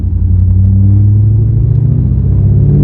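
Manual-transmission car rolling in second gear, a loud steady low engine rumble heard from close by, continuous with no talking.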